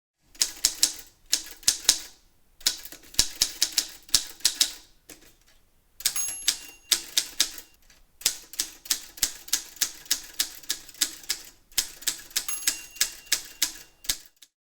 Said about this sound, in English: Brand new ribbon inserted, and voila, this typewriter is ready to go. Let's do a little type test.